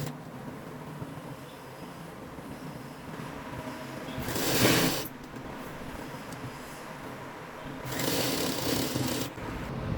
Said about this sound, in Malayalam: പോക്കറ്റിൻ്റെ ഈ സൈഡ് നമ്മൾ ചുറ്റിലോട്ട് ചേർത്ത് അടിച്ചു വെക്കാം